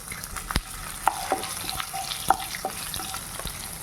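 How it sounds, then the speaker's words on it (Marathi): Cumin seeds and green chillies hit leftover hot oil for sabudana khichdi, giving a soft sizzle broken by sharp pops and crackles. "राहिलेल्या तेलामध्ये अर्धा चमचा जिरे, 2 हिरव्या मिरच्या टाकून घेऊया।"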